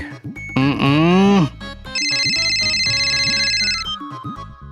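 A loud electronic mobile phone ringtone plays a looping melody, moving from a sweeping, rising phrase into steady pulsing high tones and back to shorter notes, close and clear with no talking.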